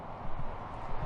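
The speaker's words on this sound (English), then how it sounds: "Now this is a horse." A horse's hooves clip-clop near a beach, giving a few quick, uneven thuds over a low background rumble during one short moment.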